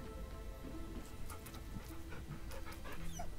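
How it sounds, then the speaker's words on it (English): A dog in the video game Baldur's Gate 3 pants in quick, steady breaths at close range, with a few faint game tones and soft ambience behind it and no talk. "Pet the dog."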